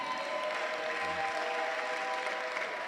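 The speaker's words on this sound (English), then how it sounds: "you're clapping your hands like you are haters" Audience applause at a leadership school graduation ceremony, steady continuous clapping from a crowd filling the room just before a valedictory speech, fairly loud and unbroken.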